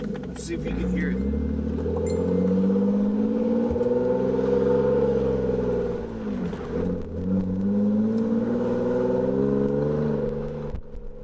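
A BMW E36 accelerating on the road, its engine droning steadily and close throughout, with pitch sweeping up through gears and a brief dip near the middle, no talking over it.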